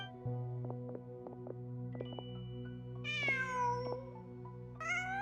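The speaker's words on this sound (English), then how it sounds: "Just a cat." A cat in the video game Genshin Impact gives a couple of clear meows, the second shorter, over a steady droning in-game music background.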